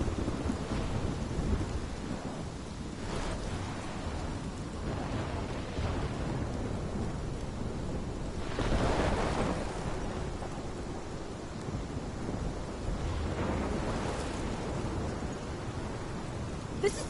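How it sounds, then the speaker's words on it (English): A thunderstorm in the video game Life is Strange: steady heavy rain with deep rolling thunder swelling through it, rumbling loudest midway, with no voices. "This is my storm."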